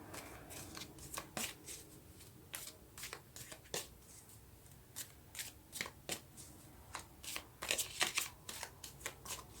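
Tarot cards riffled and shuffled by hand in a quiet room, a steady run of crisp snapping bursts that quicken and grow denser near the end, with no talk.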